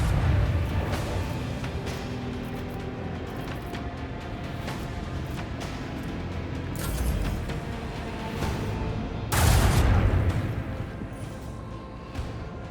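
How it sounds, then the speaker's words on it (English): Spaceship main cannon fire in the video game Rogue Trader, a dense rumbling barrage with a loud burst near the end, thick low booms layered over a steady noisy backdrop. "Guess we can only fire the main cannon"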